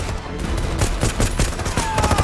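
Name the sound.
gunfire in a film shootout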